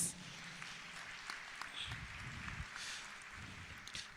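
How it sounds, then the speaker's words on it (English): An audience at a youth construction summit in Johannesburg gives a quiet round of applause, a soft, distant patter of clapping with faint murmurs and low rumbling noise underneath. "can we give her a round of applause?"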